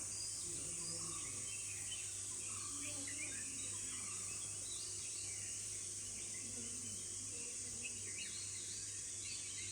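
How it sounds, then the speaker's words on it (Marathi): Early-morning birds chirp in scattered, overlapping calls at a moderate distance, set over a steady high insect drone and a low constant hum, with no one speaking. "मस्त पक्ष्यांचा किलबिलाड आहे"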